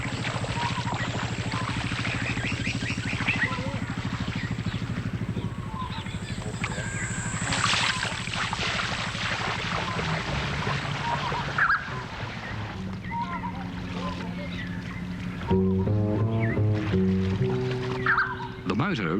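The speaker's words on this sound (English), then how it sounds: "The motor, running in low gear, keeps the wheels moving, propelling the bike slowly to the far side." Motorbike motor chugging steadily in low gear as the bike wades slowly across a river in the Kimberley, a continuous mid-level engine drone with splashing water, partly under other voices and sound.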